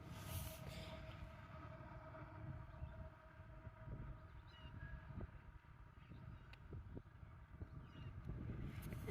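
A coal train passing near Hyner View State Park, a low continuous rumble of rolling rail wagons heard from a distance, with wind and faint squeals over the steady drone and no talking.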